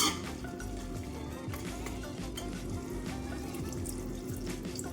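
Water running steadily from a tap into a pot of chicken curry, a continuous close splashing stream with faint clinks.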